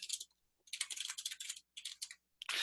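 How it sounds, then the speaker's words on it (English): Keystrokes on a computer keyboard while entering text in a timeline maker, heard as quick bursts of close clicking in several runs separated by brief pauses, with no voices. "I can type right in here if I want."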